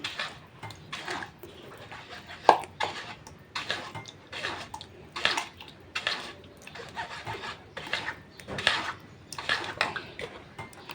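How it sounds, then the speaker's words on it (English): A tamarind (ukwaju) sauce mixture is pushed through a sieve, giving repeated close scraping and rubbing strokes of a spoon against the mesh and bowl in an uneven rhythm. "Sieve this mixture up, just as I am doing."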